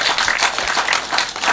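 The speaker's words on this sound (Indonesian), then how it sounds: "Hebat, tepuk tangan dong." An audience at a live puppet performance breaks into brief, dense clapping, loud and close, with no talking over it.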